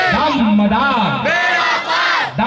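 A large crowd at a Sufi religious gathering shouts the devotional slogan "Haidari" in unison, loud and sustained, with voices rising and overlapping in chanted waves.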